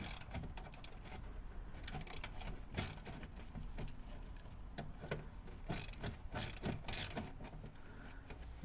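A ratchet works loose an 8mm screw on the rear brake of a BMW X5 E70, producing quick bursts of faint metallic clicking in uneven runs, close but quiet.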